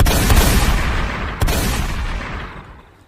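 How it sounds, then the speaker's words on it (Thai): Heavy, rumbling gunfire reverberates through the air, a dense burst followed by another sharp report before the echo slowly fades away. "ก็มีเสียงปืนดังขึ้นจากห้างตรงข้ามอยู่หลายนัด"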